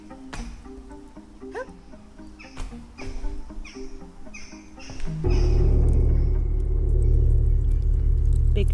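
Outdoor ambience from The Lost Crypt video game: scattered bird chirps and light clanks over a low rumble, then a sudden shift into a loud, steady, airy roar of ambient wind.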